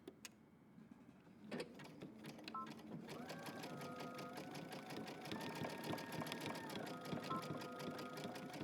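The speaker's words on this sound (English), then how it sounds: "And we're just going to zigzag the sides." A sewing machine runs a zigzag stitch down the sides of a jeans jacket, starting with a few clicks, then whirring steadily at close range with its pitch shifting as the speed changes.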